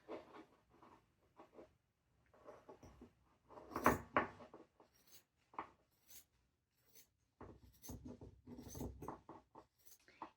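Scissors cutting a straight line through stocking fabric, heard as quiet, intermittent snips and rasping rubs in short bursts separated by near silence.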